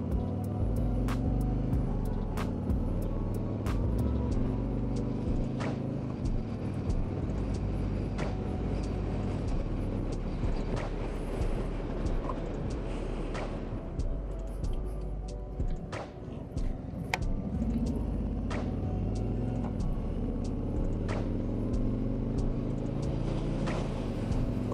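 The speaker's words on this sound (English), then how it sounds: "I'm gonna go on a test ride on this bike." Harley-Davidson Freewheeler three-wheeled touring motorcycle, a 2024 model, out on a test ride: a steady, loud engine drone with low rumble and wind rush runs continuously throughout, close and unbroken.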